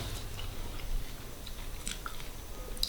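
Someone chews raw shrimp soaked in fish sauce up close, a soft continuous mastication with a few small crisp crunches and no talking.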